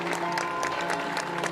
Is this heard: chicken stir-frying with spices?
no